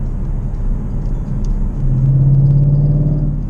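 Steady low exhaust rumble from a 2016 Mustang GT with a loud aftermarket-style exhaust, heard from inside the cabin with the window open, swelling into a stronger droning tone partway through as the engine pulls.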